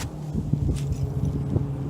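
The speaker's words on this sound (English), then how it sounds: "There's a truck." A truck passing near a pond while bass fishing, heard as a low, rumbling drone with a steady engine hum and faint bumps, moderately close and without talk.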